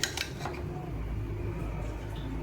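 Mango pickle being stirred with chilli powder, salt and asafoetida in a bowl, giving a steady low scraping and clinking of a utensil against the dish, close and continuous with a faint hum behind.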